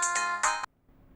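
A phone ringtone plays two bright, tonal electronic bursts close and loud, then cuts off abruptly into near silence.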